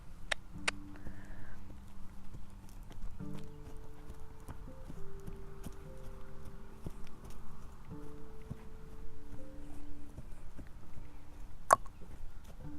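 A horse's hooves clip-clop in a steady, even trotting rhythm in a round pen, moderately close, with some faint background tones and occasional sharp knocks.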